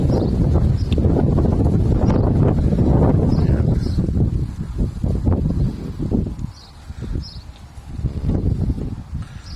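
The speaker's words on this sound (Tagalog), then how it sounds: "Medyo mahangin ngayon mga boss." Strong wind gusting against the microphone in heavy rumbling bursts that ease toward the end, with a single short spoken word.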